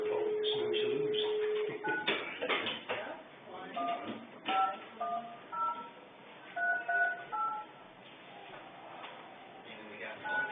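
Telephone dialing tones on a board meeting phone line: a held tone gives way to a string of short electronic beeps in uneven bursts, with faint voices murmuring underneath.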